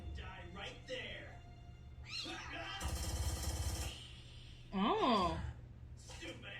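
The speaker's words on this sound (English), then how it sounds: "Stupid ass cat." A cartoon cat in a Code Geass anime episode meows loudly once, a rising and falling cry standing out over speech, music and other sound effects.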